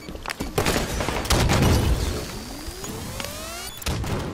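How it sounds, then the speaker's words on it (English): Beam rifle shots and other weapon fire in a Halo 5: Guardians free-for-all match: loud booming blasts and a dense fusillade with rising electronic whines and sweeping tones, close and continuous, with no speech. "It's a beam rifle."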